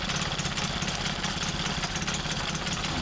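An unbolted engine on the Howard Bullfinch project idles rough and uneven, a steady mid-pitched chugging drone that fluctuates slightly as it runs on its own with no talk over it.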